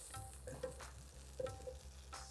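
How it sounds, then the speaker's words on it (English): Ginger garlic paste and cauliflower florets sauté in a pan for a Lucknowi achari gobi starter, a soft constant sizzle with a few light scraping stirs, quiet and close, no voices. "Saute all these ingredients for a few seconds."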